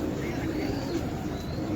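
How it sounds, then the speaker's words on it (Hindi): A pigeon coos in a pigeon loft, soft low throaty calls against a constant busy background murmur, moderately close, with no clear talking. "ये देखें, बड़ा परहेल कबूतर है"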